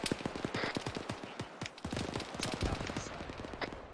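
Rapid bursts of gunfire crackle through a military field training exercise, dense overlapping shots and automatic fire repeating steadily at close to middle distance with no talk.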